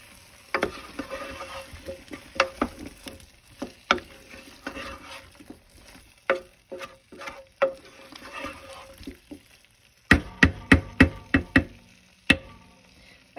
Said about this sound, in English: And I'm going to give that a nice little stir.